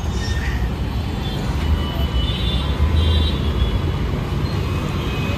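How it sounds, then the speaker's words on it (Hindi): Dense, steady roar of Delhi road traffic heard from a bridge, engines rumbling and a faint brake hiss, continuous and fairly loud throughout. "दिल्ली में बहुत ट्रैफिक है"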